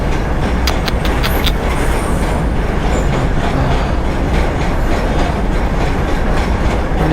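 A goods train loaded with lorries passes close by in a loud, unbroken roar of rolling wagons, with clickety-clack wheel beats and a brief metallic squeal early on.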